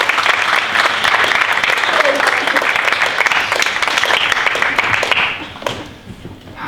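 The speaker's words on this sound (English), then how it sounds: "So let's give a round of applause for Coach K" Church congregation at a Sunday worship service giving a sustained round of applause, dense and loud clapping from many hands that holds steady, then thins and fades out near the end.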